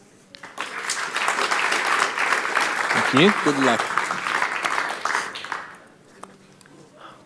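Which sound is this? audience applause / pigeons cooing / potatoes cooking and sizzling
audience applause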